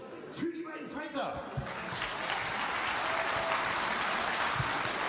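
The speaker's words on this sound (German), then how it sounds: "nochmal riesen Applaus für die beiden Fighter" After an MMA bout in Germany, an arena crowd applauds the two fighters; an announcer's amplified voice briefly opens before dense, even clapping swells and holds steady to the end.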